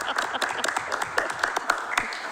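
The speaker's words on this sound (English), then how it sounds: "I feel like we should clap." A small council-meeting audience gives a short burst of applause, many hands clapping irregularly at a moderate distance, with a faint murmur beneath.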